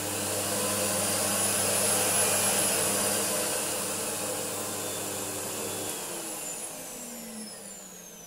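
A Numatic Henry HVR160 vacuum cleaner with a modified motor runs alone, a loud steady whirring roar that holds for several seconds and then begins winding down.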